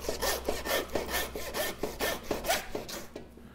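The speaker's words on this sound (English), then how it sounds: "Maybe you want to grab your handsaw, cut this neck off of here." Handsaw cutting through a deer's neck bone during home butchering: rhythmic back-and-forth rasping strokes, about ten of them, close and fairly loud, fading at the end.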